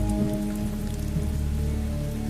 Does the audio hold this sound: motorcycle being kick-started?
no